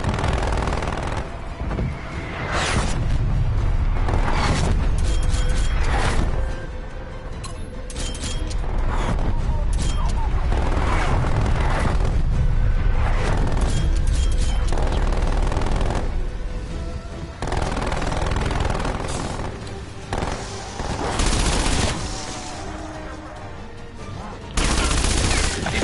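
Artillery barrage in a zombies video game: rapid, dense bursts of booming explosions and gunfire-like blasts, loud and near, pausing briefly between waves, with a game announcer voice over parts.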